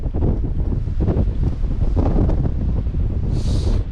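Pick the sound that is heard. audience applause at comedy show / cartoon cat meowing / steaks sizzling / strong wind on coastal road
strong wind on coastal road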